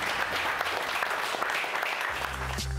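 Steady applause from an audience honouring a world boxing champion, dense and continuous throughout, with a low hum entering near the end.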